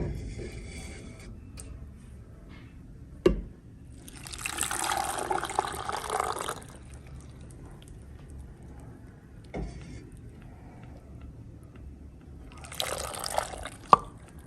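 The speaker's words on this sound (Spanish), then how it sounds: "Del mismo caldo que tenemos listo vamos a agregar una tacita." A small cup of broth poured by hand in a home kitchen: two short liquid pours, the first about two seconds long and the second briefer, separated by faint knocks and quiet room noise.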